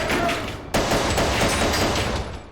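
Gunfire from a Battlestar Galactica battle scene: a steady, dense fusillade of overlapping shots fills the whole stretch, with one sharp louder burst partway in, all loud and close.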